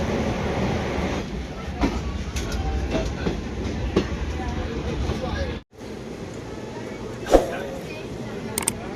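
Rumble and rhythmic clatter inside a moving general-class passenger train on a route toward Lumding, with stops at Narengi, Digaru and Jagiroad. Continuous and fairly loud, under talking, with a brief dip midway and a sharp knock later.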